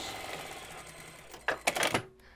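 A sewing machine back stitches a seam on a lounge chair cushion cover. It starts with a burst of rapid mechanical stitching up close, runs in short loud runs, then stops abruptly.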